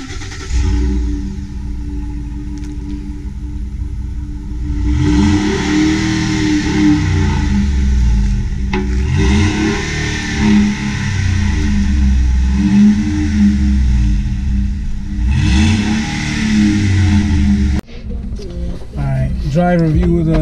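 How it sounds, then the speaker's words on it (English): Exhaust of a 2009 Ford F-150 pickup with a 5.4-liter V8 rises and falls through several revs, loud and close, with a short pause before a final burst. "Let's take a look at the exhaust now."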